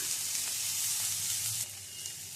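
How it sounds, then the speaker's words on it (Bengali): Onion, chopped capsicum and beans lightly frying in a pan, a steady close sizzle with soft crackle that eases slightly near the end, no talking. "এবারে এর মধ্যে দিয়ে দিচ্ছি ক্যাপসিকাম কুচি, বিনস কুচি, এগুলো একটু হালকা ভেজে নিচ্ছি।"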